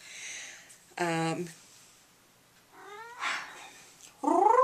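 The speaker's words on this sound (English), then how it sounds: "My kitty's here." A cat meows a few times indoors, short moderate calls spaced apart, the last one louder and closer, heard alone against a quiet background.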